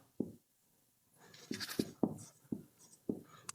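Handwriting during a geography lesson: a series of soft, sharp taps and short scratchy strokes, close and fairly quiet, arriving in an uneven rhythm with no speech.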